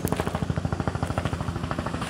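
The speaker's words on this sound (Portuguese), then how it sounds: "o helicóptero da Marinha chegando e nós estamos aqui na Transpantaneira" A Brazilian Navy helicopter arriving along the Transpantaneira road in the Pantanal, its rotor beating in a steady, fast rhythmic thump throughout, loud and close.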